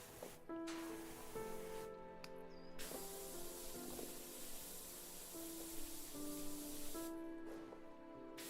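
A virtual pressure washer in PowerWash Simulator sprays soap onto colorful cartoon eggs, a steady broadband hiss running almost the whole time with brief dips and faint game chimes and tones layered over it.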